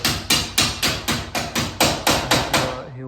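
Hammer blows ring out on a wooden hotel under construction near Tarkarli beach in Konkan, about eleven sharp, evenly spaced strikes in quick succession, loud and close, each with a short ringing decay.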